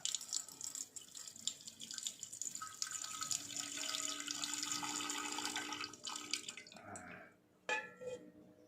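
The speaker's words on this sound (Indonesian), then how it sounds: "kita bilas bolak-balik sampai betul-betul bersih, jadikan satu" Water running and splashing as gold sediment is rinsed back and forth, a continuous close trickle with sloshing and a few sharp splashes near the end, no speech.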